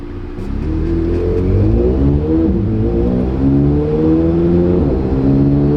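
Twin-turbo Chevrolet Corvette C8 Z06 engine pulling loudly and steadily up through the revs, rising harmonics stepping down at upshifts, a constant close-up drone with no speech.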